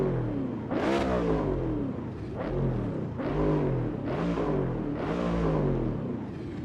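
A Ford Coyote V8 in Project Motor Racing revs repeatedly, five rising and falling engine sweeps with a rumbling low end, close and loud with no talk.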